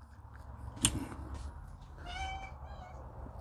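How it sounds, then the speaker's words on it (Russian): A cat meows indoors, a short sharp cry followed a moment later by a longer, wavering meow over a low background rumble, with no talking. "кот там ходит"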